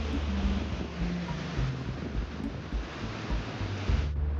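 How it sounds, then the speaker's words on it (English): Ocean waves break on a rocky coast in a continuous broadband wash of surf, with wind rumble on the microphone and low thuds beneath, steady throughout with no voices. "Ocean waves are an agent of coastal erosion."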